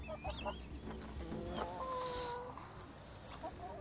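Chickens cluck and chatter close by, with a rooster-like call mixed in among soft farmyard noises.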